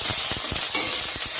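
Whole chillies, cumin and ginger paste fry in a hot pan for a cabbage dish, a bright close sizzle broken by quick scraping clicks of stirring.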